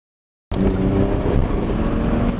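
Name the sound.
car engine revving during a double-clutch downshift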